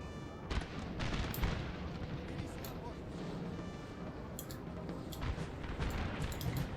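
Artillery cannons in Napoleon: Total War fire in scattered booms and sharp cracks over a dense, continuous battlefield din, with several louder reports standing out at uneven intervals.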